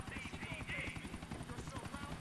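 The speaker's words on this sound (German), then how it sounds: "Helikopter." Steady rhythmic thump of helicopter rotor blades in Grand Theft Auto IV, a continuous chopping pulse with a whining engine tone, heard fairly close under a faint game background.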